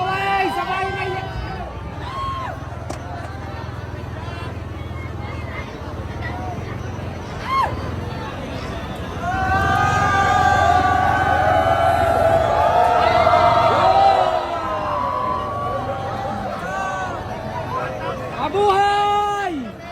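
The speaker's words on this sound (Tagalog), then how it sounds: "Kaway! Sabay hiyawan!" At a political rally, a big crowd roars and cheers in a steady wash of voices that swells loudly midway and stays strong, with shouted calls cutting through near the start and end.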